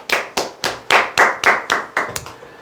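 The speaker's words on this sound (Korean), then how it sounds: "박수 한번 치시죠." Hands clap at a slow, steady rhythm during a Korean talk, about nine distinct, evenly spaced claps, close and clear, with no voices over them.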